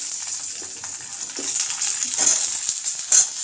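Eggplant frying in hot oil in a pan, a continuous crackling sizzle with scattered pops and stirring scrapes, close and fairly loud.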